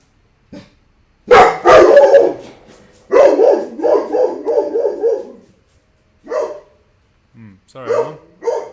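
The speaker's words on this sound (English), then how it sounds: "Stupid bloody dog." A dog barks loudly and repeatedly in close, rapid bursts, with a few shorter yips and pauses between volleys.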